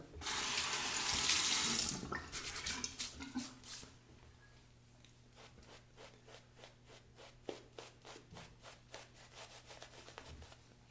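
Tap water runs steadily for a few seconds, then stops, followed by a series of soft rhythmic rubbing strokes of shaving cream and water during a razor demo.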